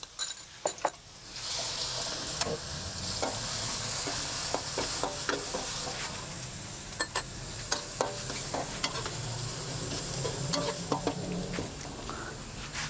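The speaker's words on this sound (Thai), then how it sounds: "เราจะเจียวกระเทียมจนหอมดีก่อนนะครับ" Pounded garlic frying in oil until golden, a steady close sizzle with frequent sharp clicks and scrapes of a stirring utensil against the pan, heard alone.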